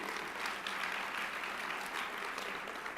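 Audience applause at a chamber of commerce annual meeting, a steady, even roar of many hands clapping throughout, with no voices heard.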